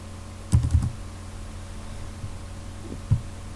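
Computer keys tapped in a short burst of clicks, then a single faint keystroke later, close by over a low room hum.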